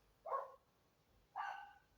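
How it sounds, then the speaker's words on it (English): Two short dog barks, about a second apart, fairly faint and a little distant, with quiet between them. "you're going to get dogs barking"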